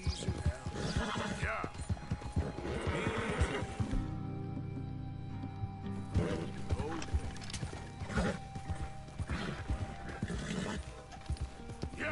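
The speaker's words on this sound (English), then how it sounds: "Calm down, horsey. That's a good girl." A horse in the video game Red Dead Redemption 2 whinnies and snorts while its hooves clip-clop in uneven bursts, close by, with someone speaking calmly over much of it.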